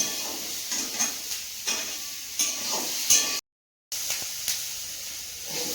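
Capsicum frying in a pan, a steady close sizzle and hiss broken by repeated scraping stirs roughly every second, with a brief drop to silence midway.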